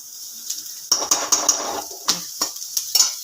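Vegetables for upma being lightly roasted and stirred in a pan, with repeated scraping and clinking spoon strokes against metal over a soft background sizzle, close and fairly loud.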